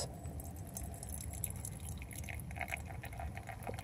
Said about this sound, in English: And then pour the water.